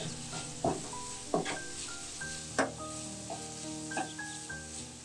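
Chicken pieces sizzle in a hot pan while a utensil stirs them, giving a steady frying hiss broken by several scraping and clattering strokes, close and fairly loud, with no one speaking.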